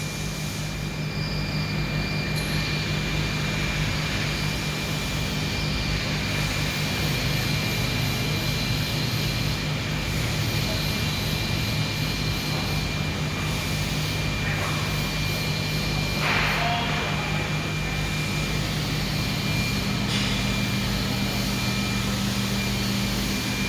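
A Formech Midi vacuum former heating a plastic sheet gives off a steady droning hum with fan-like whir, continuous and even throughout with no talk.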